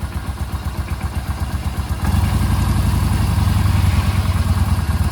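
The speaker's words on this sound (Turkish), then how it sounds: "Zaten çektiğim zaman sesi değişiyor motosikletin." A Yamaha XV950 motorcycle idles during a spark plug and ignition coil misfire check. The engine thumps close by in a steady pulsing rhythm, then turns louder and rougher at about two seconds and holds that tone.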